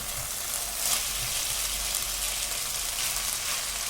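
Vegetable chowmein noodles with vinegar and tomato sauce stir-fry in a hot pan, a loud, continuous hissing sizzle with a few soft stirring knocks.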